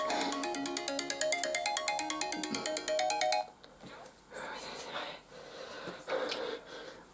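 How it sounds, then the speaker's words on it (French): An iPhone ringtone chimes in a steady repeating pattern for several seconds, loud and close, then cuts off as a voice and breathy sounds follow. "C'est son téléphone."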